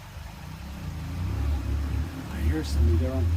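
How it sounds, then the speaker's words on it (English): A motor engine rumbles low and grows louder as a vehicle approaches and passes nearby, with brief voices in the background. "I hear somebody there on the motorcycle."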